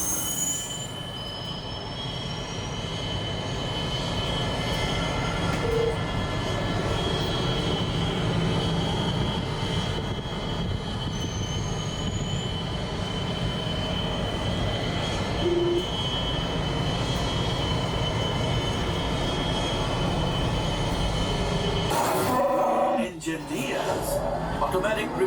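A train sound effect on the Millennium Falcon Smugglers Run ride: continuous rumbling rail noise with sustained wheel squeal, loud and immersive throughout, with a sharp burst of mechanical noise near the end.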